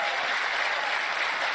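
A crowd applauds at a political town hall with Donald Trump, a dense, steady wash of clapping that fills the whole moment without pause.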